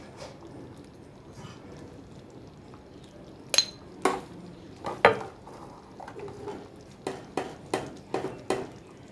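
Metal spoon clinking against a pot while cumin powder and garam masala are stirred into cooked mung dal, a series of sharp taps and scrapes, some in quick clusters, close by with no talking.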